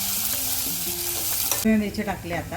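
Crushed garlic, about a dozen cloves, and onion sizzle steadily in a pan for a chana palak masala, a bright continuous frying hiss that swells louder partway through while someone talks over it.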